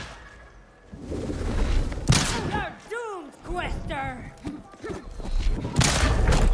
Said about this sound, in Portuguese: Para de ficar atirando, demônio.